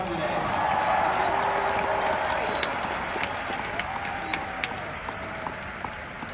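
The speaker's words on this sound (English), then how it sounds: "let's give a big cheer for all the mothers in the audience today" A graduation ceremony audience applauds and cheers for the mothers present, with a steady wash of clapping and crowd noise throughout and a few brief whoops on top.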